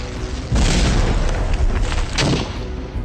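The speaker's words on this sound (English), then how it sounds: "the tail gunner, who fires and hits and blows the bandit out of the sky" A heavy, sustained blast roars through a World War II B-17 bomber combat game as a tail gunner downs a German fighter, a loud rumbling explosion with no talking.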